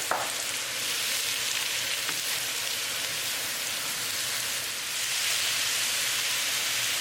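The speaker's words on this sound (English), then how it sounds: "cook it on high flame until the mushrooms get tender" Mushrooms frying on high flame in a pan with garlic and spinach, a dense steady hiss and crackle like rain, with occasional stirring knocks, close and continuous throughout.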